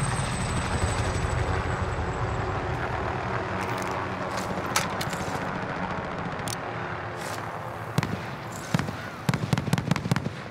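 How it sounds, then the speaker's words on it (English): Helicopters arrive in a video game, a steady rotor drone with engine rumble that carries through most of the stretch. Sharp game bangs and pops break in near the end. "choppers inbound. Rare cargo is on board."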